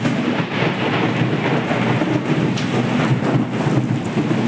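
Heavy monsoon downpour roaring steadily outside a house window, dense continuous rain noise with low thunder rumble underneath, loud and close, no talking.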